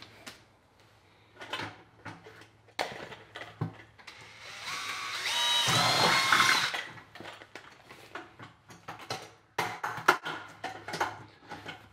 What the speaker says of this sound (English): To install it, I need to drill holes on either side.